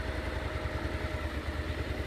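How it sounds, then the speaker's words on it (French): Suzuki SV650 V-twin motorcycle idling in first gear and rolling off without throttle, a low, lumpy pulsing engine note, steady and close, with no voices. "j'accélère pas, elle avance toute seule, la moto."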